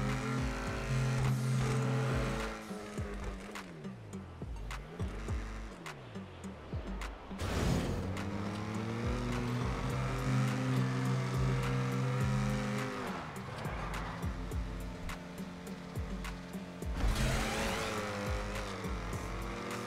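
A car in a GTA video game drives with a sustained engine drone that rises and falls through gear changes, with squealing tires and revving throughout, fairly quiet and without talk.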